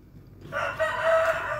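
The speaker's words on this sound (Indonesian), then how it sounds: "teman-teman pasti dengar suara ayam berkokok," A rooster kept for cockfighting in Bali crows once in a long, drawn-out call, moderately close and clear against quiet morning surroundings, with no talking.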